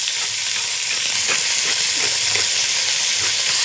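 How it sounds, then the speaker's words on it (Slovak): Chopped pork sizzles steadily in a pan for a pilaf with peas and almonds, a dense continuous hiss with a few soft stirring scrapes, close and alone without talk. "Teraz meso opečeme"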